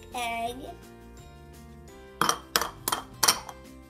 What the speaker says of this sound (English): So I'm gonna crack this egg.